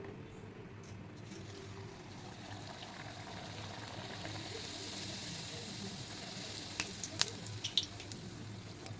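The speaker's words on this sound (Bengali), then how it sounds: "তেল গরম হয়ে গেছে, এবার আমি লুচিগুলো এক এক করে ভেজে নেব।" Luchi flatbread frying in hot oil, a steady soft hiss and sizzle that is faint and continuous, with a few small crackles near the end and no speech.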